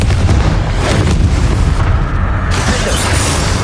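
Confringo spell blast in the video game Hogwarts Legacy, a loud, dense booming explosion rumbling close for several seconds with a brief dip in the middle.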